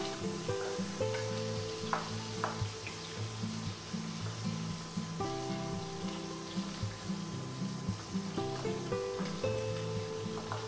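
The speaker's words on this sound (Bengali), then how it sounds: "চিংড়ি মাছটা ভেজে তুলে নিই।" Prawns fry in a pan with a steady, close sizzle and occasional stirring scrapes, while soft tonal background music runs underneath.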